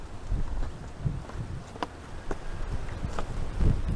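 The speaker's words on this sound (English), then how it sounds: "It is really windy out here." Gusty wind buffets the microphone with a low, uneven rumble, punctuated by brief sharper bursts and knocks throughout.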